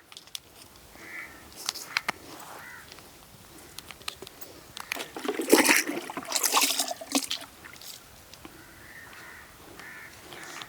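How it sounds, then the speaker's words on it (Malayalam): Water is poured onto a newly planted cucumber seedling on a farm plot, a rushing, splashing pour lasting a couple of seconds midway, while crows caw nearby before and after. "നമ്മൾ വെള്ളമാണ് ഇതിന് ഒഴിച്ചു കൊടുക്കുന്നത്"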